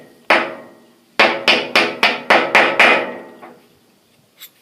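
Hammer blows knocking the primer out of a .32 rimfire cartridge during reloading: one sharp strike, a pause, then a quick run of six ringing metallic hits that trail off, each loud and close, with no talk.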